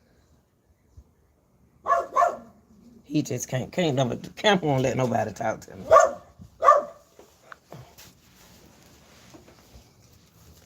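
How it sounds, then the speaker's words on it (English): A dog barks in a few sharp bursts near the mic, interrupting a person talking over it in a home livestream setting. "Please stop barking."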